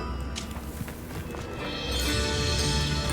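Horse hooves clip-clop in the video game Hogwarts Legacy, a quick rhythmic run of hoofbeats that grows louder and denser toward the end.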